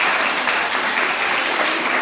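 An audience at a poetry recitation competition claps in a dense, continuous burst of applause with no voices over it.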